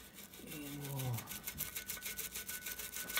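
A brush scrubbing loosened grime and degreaser off a KitchenAid stand mixer, quiet rhythmic rubbing strokes close by, with a brief murmur of a voice early on.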